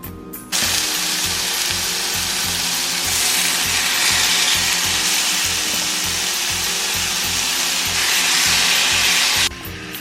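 Steak sizzles loudly and steadily in a hot oiled pan while cooking for a quesadilla, a dense broadband hiss that starts abruptly and holds for most of the stretch before cutting off, with no talking.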